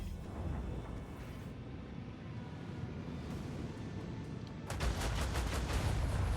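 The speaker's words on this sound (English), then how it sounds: "Let's fire torpedoes that way" Torpedoes firing in the video game Rogue Trader, a continuous rumbling barrage that grows heavier near the end with rapid pulsing blasts, steady and fairly loud with no talk.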